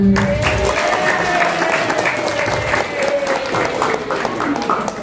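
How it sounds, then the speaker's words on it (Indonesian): Audience applause at an Islamic religious gathering, loud continuous clapping from a crowd lasting several seconds without letting up, with faint voices mixed in. "Terima kasih, tepuk tangan."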